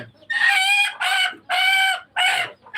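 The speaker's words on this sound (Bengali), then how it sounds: "ওই যে মুরগিটা দেখি কুচে বসছে নাকি এটাকে সাইড করে দাও তো দেখি হালিম" A desi hen gives four loud, drawn-out clucking calls in quick succession, close and harsh, with short silences between them.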